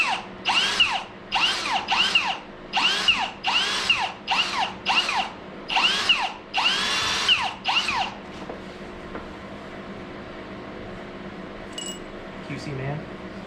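Power tool grinding valves from a MK2 Jetta turbo diesel engine, about ten short whirring bursts with brief gaps, close and loud, then quieter workshop room tone.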